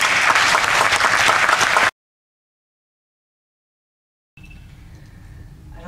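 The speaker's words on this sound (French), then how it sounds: "je voudrais vraiment qu'on applaudisse M. Broquet" Loud audience applause at the Prix Condorcet award ceremony, dense steady clapping for about two seconds that cuts off abruptly into silence, then quieter room noise returns.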